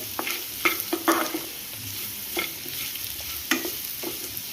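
Beetroot fry with chili powder is stirred in a pan: a quick series of spoon scrapes and taps rises over a soft, continuous sizzle, close and moderately loud.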